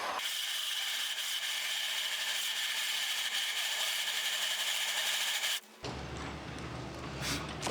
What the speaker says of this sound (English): the hole saw is a bit too large for this drill and it is struggling